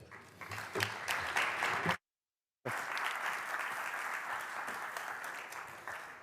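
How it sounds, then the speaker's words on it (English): A conference audience in Valencia, Spain applauds steadily, with a brief gap of silence partway through before the clapping resumes and carries on evenly. "Please give a big, big applause to Javier."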